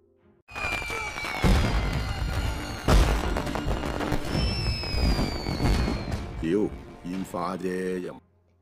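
Loud, rapid bursts of fireworks exploding in quick succession, dense booms and crackles filling the scene, with voices and music-like tones near the end.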